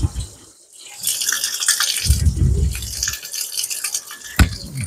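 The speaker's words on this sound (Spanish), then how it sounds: "les voy a llenar esto de agua" Tap water pours into a container marked at the one-litre line. The gushing and splashing rises and falls over about five seconds and ends with a sharp knock, with no talking.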